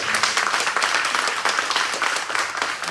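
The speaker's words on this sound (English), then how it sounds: "Again, another round of applause." An indoor crowd at a community event applauds warmly, a dense sustained burst of clapping that fills the whole moment without pause.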